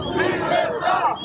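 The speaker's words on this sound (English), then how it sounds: "Look at the crowd of that people." A large crowd of a migrant caravan shouting together, a loud, dense chorus of voices rising and falling in a brief burst.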